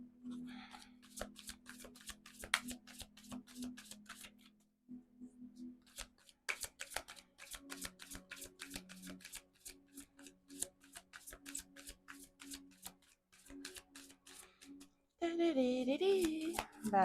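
Tarot-style cards being shuffled for a six-card spread, quick riffling and shuffling bursts close by with short pauses between, ending in a louder rustling stretch.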